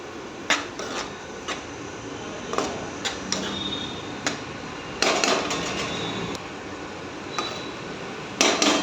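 A spoon clinks and scrapes against a metal pot while tomato and ridge gourd curry with turmeric and ginger-garlic paste is stirred, giving sharp, irregular knocks over a quiet background.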